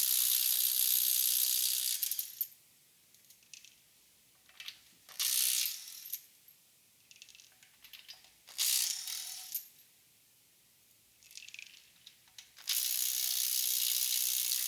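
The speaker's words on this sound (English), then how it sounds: "This is my Dewalt Xtreme 12-volt impact wrench, 3/8 drive, and it can't take out the little bolt because it's been over torqued" A Dewalt Xtreme 12-volt 3/8-inch-drive subcompact impact wrench hammers repeatedly against an over-torqued small bolt, giving several loud rattling bursts of impacts separated by quiet pauses, with no voices.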